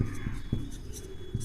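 Chalk or marker strokes on a classroom board as a teacher writes during a lesson, a few short, soft rubbing taps close by over a low hum, with no talk.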